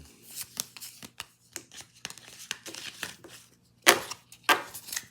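Quick bursts of papery riffling and flicking as playing cards are shuffled for a board game, several in a row, with two sharper crackling flurries near the end, recorded close and fairly quiet.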